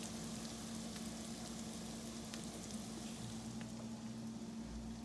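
Tomatoes sauté in a pan with a soft, continuous sizzle and faint crackle, quiet and close, with no talking over it.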